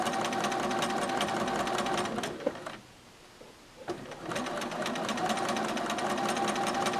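A sewing machine stitches wave tucks across a hand towel, its needle chattering in a fast, steady rhythm close by, stopping for about a second and a half before running on again.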